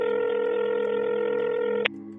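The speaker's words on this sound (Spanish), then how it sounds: "así que le marqué por teléfono." A steady telephone dial tone hums loudly and alone, then cuts off with a brief sharp beep as dialing begins.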